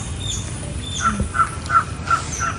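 A crow caws several times in an even rhythm, a bit distant, over quiet outdoor background noise.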